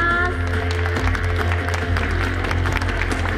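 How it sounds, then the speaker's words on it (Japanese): Steady crowd clapping for a guest arriving on stage at a Fukuoka creators event, continuous and even throughout, with a low hum and some talk beneath. "大きな拍手をお願いします"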